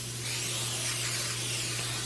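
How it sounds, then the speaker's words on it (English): Pam cooking spray is sprayed onto a baking sheet in a continuous, close, hissing burst lasting about two seconds. "our Pam is going to be sprayed on a baking sheet, a cookie sheet, either one"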